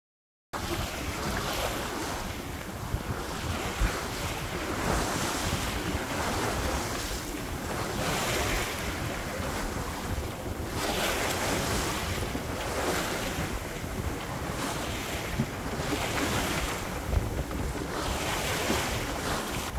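Sailboat under way at six knots off the Baltic coast toward Simrishamn, steady rushing waves and hull wash with heavy wind buffeting the microphone, continuous and loud.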